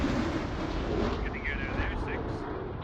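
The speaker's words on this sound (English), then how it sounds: "We've got another airstrike coming in." Explosions from an F-18 airstrike in the video game Squad, a continuous heavy rumble of blasts and roaring noise with faint whining, and a voice talking over it.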